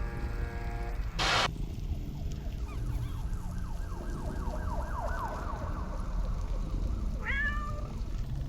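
Cat meowing in the video game The Floor Above, a drawn-out, wavering meow in the middle, then a short one near the end, over a dense game background.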